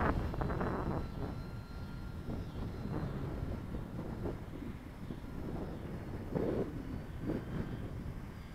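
Dynam P-47 radio-controlled model airplane with a motor issue, its electric motor whining steadily in flight at moderate distance, a continuous drone with slight swells under outdoor wind noise.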